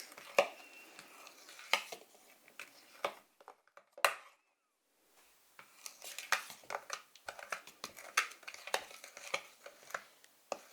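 Flour being worked into Italian crostata tart dough by hand in a quiet kitchen: soft, close scraping and mixing with light clinks of a utensil against a bowl, irregular and intimate, with a brief pause partway through.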